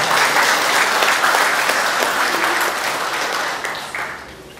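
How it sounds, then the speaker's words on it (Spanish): Loud, sustained applause from a crowd, many hands clapping together, gradually tapering off toward the end. "Un aplauso fuerte para él."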